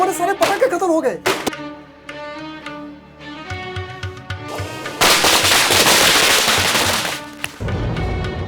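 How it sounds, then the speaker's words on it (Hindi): A film scene where firecrackers are set off has scattered pops over music, then a loud, continuous two-second barrage of crackling bursts, followed by lingering tones; voices are mixed in. "तुम भी पटाखे जलाओ, जलाओ।"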